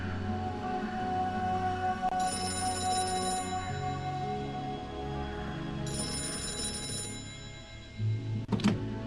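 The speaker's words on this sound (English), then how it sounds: "That phone is about to ring." Telephone rings twice in the Gray Matter video game: two sustained electronic bursts about four seconds apart over a steady ambient music bed, clear and moderately loud.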